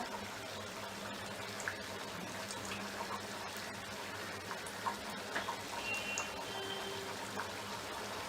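Sweet dumplings frying in oil over medium heat, a continuous soft bubbling sizzle with occasional small pops, steady and close throughout.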